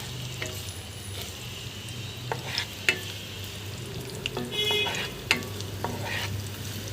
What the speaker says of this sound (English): On medium flame I'm going to saute this.